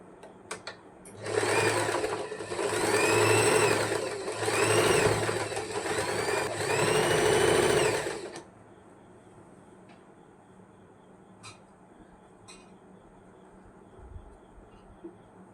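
An electric sewing machine stitches a trendy gown in four fast, whirring bursts separated by short pauses, loud and close, then stops; faint handling clicks and rustles follow in a quiet room.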